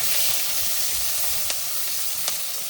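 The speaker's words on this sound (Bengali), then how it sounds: "এবার চলে যাচ্ছে কিন্তু পেঁয়াজ আর কাঁচা" Onion and green chili hit a hot frying pan, a dense, even hiss of sizzling oil with a couple of sharp clicks, close and constant, no talking.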